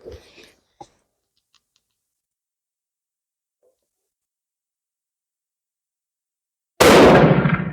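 A single loud rifle shot close by, fire forming .348 Winchester brass to 8x56r Kropatcheck, with brief faint sounds before it and silence between.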